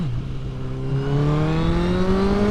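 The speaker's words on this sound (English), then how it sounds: "that typical inline 4, you hit 7 or 8 grand and it really," A 2015 Honda CBR1000RR Fireblade inline-four engine revs up smoothly and steadily through the rev range, its pitch climbing continuously in a loud, close, rising howl with no talking.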